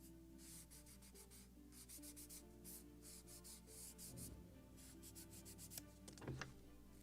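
Wooden part of a 1776 gunboat Philadelphia scale model being sanded and polished with Scotch-Brite, steady rhythmic rubbing strokes close up over a low constant hum, with a few sharper scrapes near the end.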